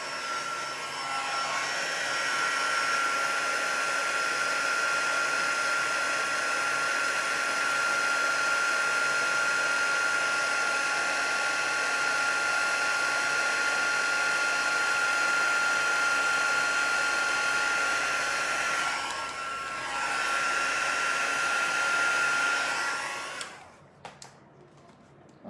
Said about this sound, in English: So I'm going to get my heat tool again and heat this up.